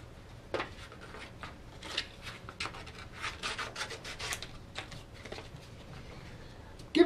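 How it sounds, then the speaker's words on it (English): Dried wood filler is hand-sanded with 220-grit sandpaper, giving a steady series of soft, scratchy rubbing strokes in an irregular rhythm, close and fairly quiet, with no talking. "Now we're going to sand that down with a 220 sandpaper."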